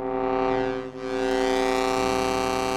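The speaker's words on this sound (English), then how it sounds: "And this is just going to be a static oscillator." A static oscillator on a Moog Matriarch synthesizer drones as a steady, rich buzzing tone with dense harmonics, briefly dipping in loudness, played alone without talking.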